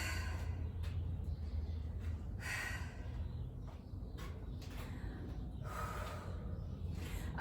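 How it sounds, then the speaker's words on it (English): Slow, heavy breathing during a rest break in a workout, with several distinct breaths and exhales spaced a couple of seconds apart, quiet and close over a low background hum. "I'm gonna really slow down my breathing."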